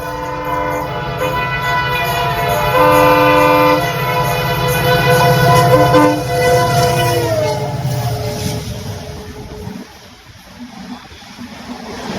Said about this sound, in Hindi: दौड़ते हुए गाड़ी आ रही है।